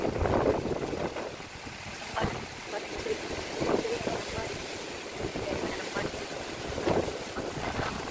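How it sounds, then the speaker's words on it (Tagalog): Strong wind buffets the microphone outdoors near water, a continuous loud roar with gusty swells and rumbling, while a voice talks faintly underneath. "ang lakas talaga ng hangin"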